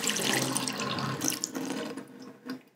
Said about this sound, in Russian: Что там шумит? Ха! Это я забыл кран закрыть,